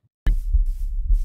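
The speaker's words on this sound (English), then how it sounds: "Why is there a heartbeat?" Heartbeat effect in a Minecraft horror mod, a sudden onset of deep, muffled thumps in a double-beat pattern, close and heavy, with no talk over it.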